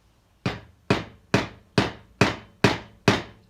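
A rubber mallet hammers a motorcycle bar mount into place with seven evenly spaced, loud, close blows, each a sharp thud that quickly fades before the next.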